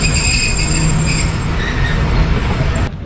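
The 28 DN Shalimar Express pulls into Rahim Yar Khan railway station, loud and close, with a steady rolling rumble of railcars and sustained high wheel squeal that cuts off near the end.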